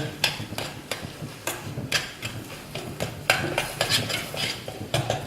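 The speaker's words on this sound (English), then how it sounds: "we'll put in our mango powder and our black pepper" Fish with mango powder and black pepper is stirred in a pan, a steady run of spoon scrapes and light clinks repeating in an uneven rhythm over a soft sizzle, close and moderately quiet.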